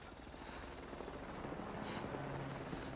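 Helicopter in Metal Gear Solid V: Ground Zeroes gives a steady, dense rotor drone that holds evenly throughout at moderate loudness.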